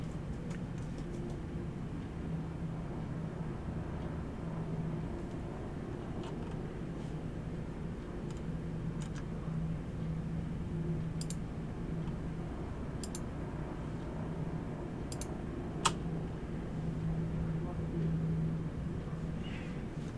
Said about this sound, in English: I can barely hear you, dude, because the engine sounds are so loud.